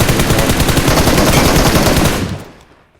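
Sustained automatic gunfire in the mobile battle royale game PUBG Mobile, a loud, dense, rapid burst of shots that rattles on for about two seconds before fading out, with no one talking.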